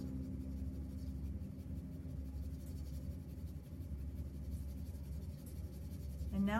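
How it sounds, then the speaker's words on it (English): Soft continuous scratchy rubbing of the side of a pencil shading across paper, faint and steady under a low background hum. "It's just done with the side of the pencil."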